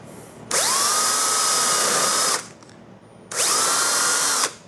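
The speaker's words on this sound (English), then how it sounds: "I've drilled a nice little hole there, and a little opening for our screw." Power drill fitted with a countersink drill bit boring a screw hole, two sustained high whining runs of about two seconds and one second, loud and close, separated by a short pause, with no voices.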